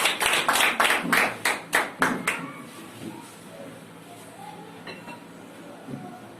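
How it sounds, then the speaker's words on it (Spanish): A church congregation claps in a quick rhythmic burst of about ten sharp claps that stops after two seconds, leaving a quiet room with faint sounds. "Dale un aplauso al Señor"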